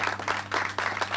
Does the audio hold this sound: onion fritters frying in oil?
no